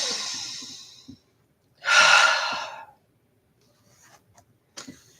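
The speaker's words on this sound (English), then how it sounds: "Big breath." A deep meditative breath drawn in and let out during a guided healing session: a long, noisy inhale, a pause, then a loud, full exhale, with faint breathy rustles afterward.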